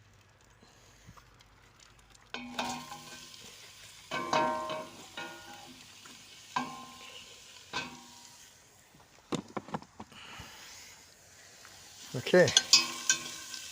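Onions go into a pan over the lowest heat on a small raised rack, giving a quiet start, then intermittent bursts of sizzling and stirring clatter with gaps between; a voice speaks briefly.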